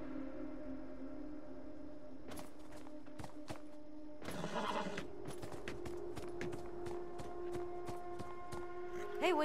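A horse in the video game Beyond: Two Souls moves with sparse, irregular hoof clops and a short rough burst partway through, over a quiet, faint ambient hum.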